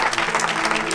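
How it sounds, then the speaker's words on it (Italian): Theatre audience applauding a touring Italian theatre company in Valconca, with dense, steady clapping that fills the whole moment at close range. "fateci sentire quanto vi è piaciuto in termini di applauso"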